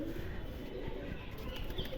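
Pigeons cooing overhead in a loft, a soft continuous low murmur of calls steady throughout with faint chirps mixed in.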